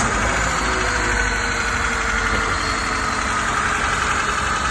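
A car engine idles under an open hood, a steady low mechanical hum with a faint rhythmic knock, close and continuous, with no talking.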